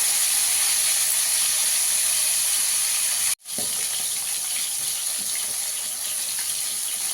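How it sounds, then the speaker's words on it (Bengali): Fish fry in a hot pan until reddish-brown, giving a steady, loud broadband sizzle that continues nearly unbroken, with a brief cut partway through, and no talk. "মাছগুলোকে একটু ভালো করে ভেজে নেব লাল করে"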